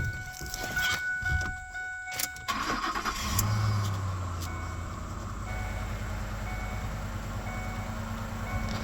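A car engine cranks briefly, catches, and settles into a steady low idle that continues nearby.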